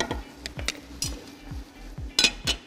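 Pot lid set onto a cooking pot of cabbage and minced meat on the stove, a few close metallic clinks and knocks over a faint background sizzle.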